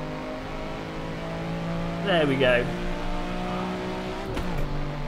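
A Need for Speed race car mod in Assetto Corsa hums at a steady, high pitch, with one sharp rev near the end and a short spoken remark over it.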